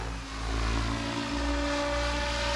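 Blade Fusion 700 RC helicopter with its rotor and motor whining in a steady tone that sags slightly as the RPMs bog down, fairly close, no voices.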